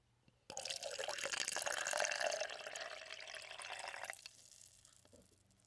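Water runs and drips for an ASMR experiment, starting abruptly into a close, steady splashing trickle that swells, then cuts off to near silence, with no talking.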